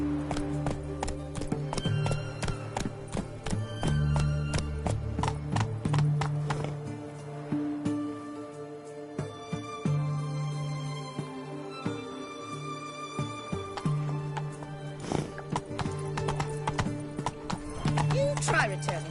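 Horse hooves clip-clop at a gallop in The Witcher 3, a steady rhythmic pounding with a whinny, mixed with game music and ambient sound over about nineteen seconds.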